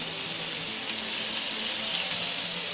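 Chicken pieces pan-searing in a crowded pan give a steady, dense sizzle that holds at an even loudness throughout, with no voices.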